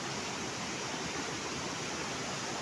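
Kinayan Falls in Negros Oriental pours in a steady, dense roar of falling water, broadband and unbroken, close and moderately loud with no voices.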